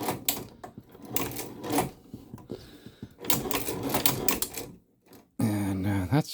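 A Chinese shoe patcher sewing machine stitches in short bursts of rapid mechanical clatter, loud and close, with brief pauses between passes and a denser burst at the end.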